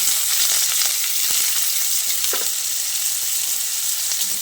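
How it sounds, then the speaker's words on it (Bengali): Diced medium potato frying in a pan with whole spice tempering, a loud continuous hiss of sizzling oil with an occasional stir, close up and unbroken. "আলুটা দিয়ে ফোড়নের সঙ্গে নেড়ে চেড়ে বেশ কিছুক্ষণ ভেজে নিতে হবে।"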